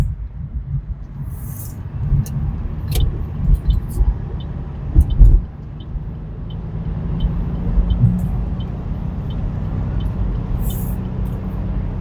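A rideshare car drives through Honolulu with steady low engine and road rumble and a few brief knocks and hisses, heard from inside the cabin with faint voices now and then.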